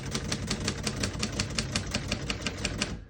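Typing on a 1939 Royal Arrow vintage portable typewriter, a fast even run of about sixteen sharp mechanical key strikes, close and loud, ending abruptly.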